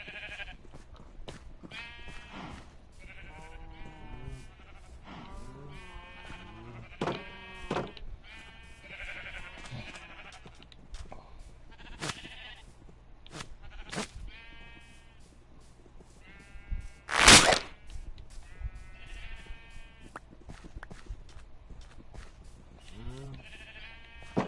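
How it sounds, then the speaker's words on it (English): Minecraft sheep bleat over and over in a pen, several overlapping calls at a steady pace with no talk, and one sharp loud burst partway through. "Trying to use leads to help corral the sheep so that they can't get out."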